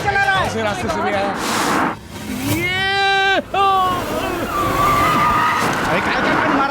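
A car skids on a slippery road in a Hindi movie scene, its long, loud tire squeal sweeping in pitch twice over a steady engine roar, with brief gaps between the slides and no talk.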